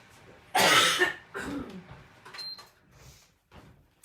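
A loud cough followed by a few softer coughs and throat clearing, close up and spaced out with quiet gaps between.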